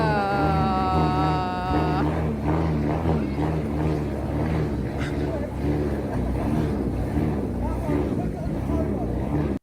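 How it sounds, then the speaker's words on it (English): A diesel engine revs hard and steadily up close, a loud continuous rumble that drowns out speech, with a brief tonal whine at the start. "We do not have the money right now to be revving like this."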